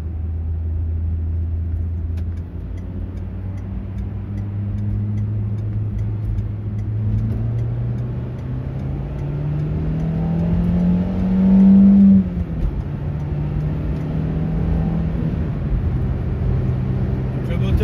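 A 2003 Peugeot 206 Roland Garros 1.6 16V engine revs and climbs in pitch as it accelerates hard to overtake a truck, steady road rumble throughout, with a louder surge near the middle.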